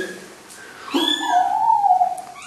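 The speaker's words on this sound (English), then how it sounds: "Oh, I have kittens." A single close, loud meow from a three-week-old kitten rises and falls for about a second, with no talking.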